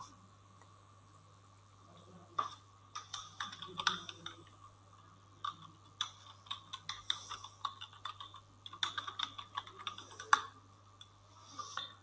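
Keys clatter on a computer keyboard as an assignment title is typed, quiet uneven bursts of clicks with short pauses between words, close and alone over a faint steady hum.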